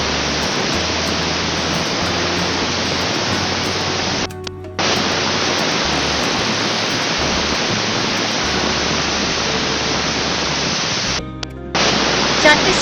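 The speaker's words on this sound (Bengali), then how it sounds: "এবার এই কুকারের ঢাকনাটা লাগিয়ে আমি চারটি সিটি পরপর দিয়ে দিচ্ছি" Loud continuous hissing steam from a pressure cooker cooking mutton, a steady rushing whistle that briefly cuts out twice before resuming.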